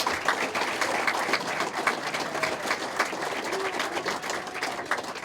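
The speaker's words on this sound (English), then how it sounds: "how about another round of applause for our 2018 inductees?" Another round of applause for 2018 Hall of Fame inductees at a county sports banquet, a steady crowd clapping at moderate distance with a few sharper individual claps standing out, continuous throughout.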